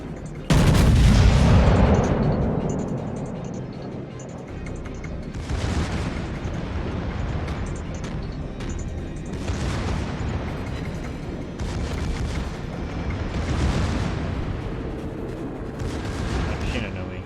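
Naval gunfire in World of Warships: a heavy booming salvo opens, followed by repeated distant cannon reports at roughly two-second intervals over a constant engine and sea rumble.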